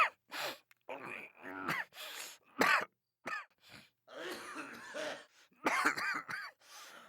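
A person coughs and clears their throat in a rough, repeated series of bursts separated by short pauses, heard alone without speech.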